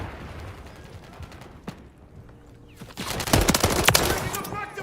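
Automatic gunfire in a Hardpoint match of a shooter video game, with scattered shots building into loud, dense bursts of rapid fire in the second half.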